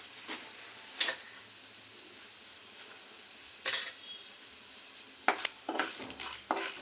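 Cumin and mustard seeds frying in hot oil, heard as a quiet background sizzle broken by a few scattered crackles, spoon scrapes and pops, growing busier toward the end.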